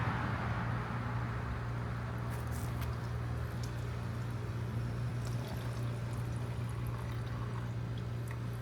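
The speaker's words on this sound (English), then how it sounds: "I'm gonna just pour some in there" Coolant antifreeze poured into the cooling system of a BMW F800R motorcycle, a steady continuous liquid pour with a low hum underneath, close and even throughout.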